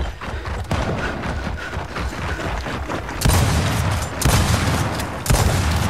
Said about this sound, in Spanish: Ya oí disparos.